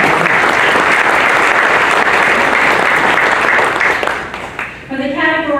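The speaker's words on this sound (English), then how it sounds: "Let's give another round of applause for Mr. Welburn." Audience applause fills a Corvette Hall of Fame induction ceremony, dense and loud for several seconds, then thinning as a voice begins speaking over the fading claps.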